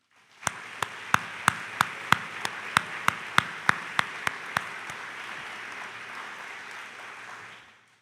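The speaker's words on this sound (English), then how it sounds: "let's invite these 3 provost fellows for 1920 to stand up and give them a round of applause" An audience at a 2019 divisional meeting applauds three provost fellows, a dense, even wash of clapping with a few sharp, louder claps standing out near the start before it fades.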